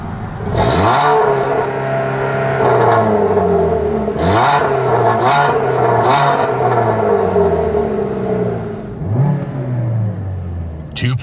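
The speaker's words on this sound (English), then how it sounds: "Rev her up." A 2015 Dodge Dart's four-cylinder engine revs repeatedly, its pitch climbing and falling in several loud swells before settling into a steady high drone, heard up close with no speech.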